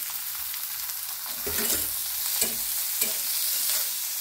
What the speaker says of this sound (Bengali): চিংড়ি মাছ সহ ভেজে নেব